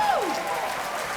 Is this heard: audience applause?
yes